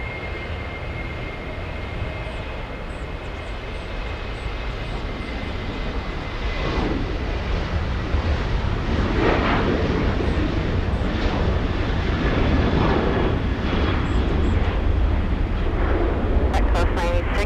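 A Southwest airliner on the move at LAX airport gives a loud, steady jet-engine roar that swells gradually, with faint voices heard intermittently underneath.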